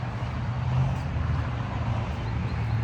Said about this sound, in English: You can hear the cars screaming by.